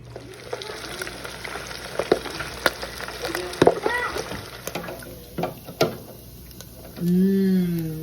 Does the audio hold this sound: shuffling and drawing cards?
no